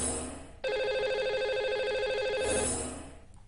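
A telephone rings once in a single sustained electronic trill lasting about two seconds as a live TV programme dials out to a lucky caller; quiet before and after.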